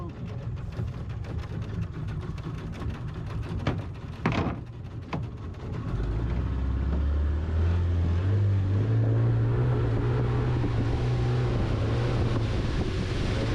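A 4x4 on an African road trip rolls through a small stream, its engine rumbling low beneath steady splashing and rushing water, with wind buffeting the microphone and no voices.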